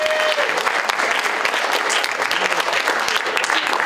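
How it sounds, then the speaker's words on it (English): Audience applause at a live show in Keyser, West Virginia: a dense, steady wash of clapping from a crowd, loud and continuous throughout, with no talk over it. "let's hear it for Mr. Z one more time"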